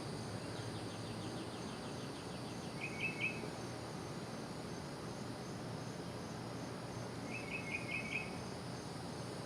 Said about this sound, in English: all the birds, and of course you can hear the insects in the background.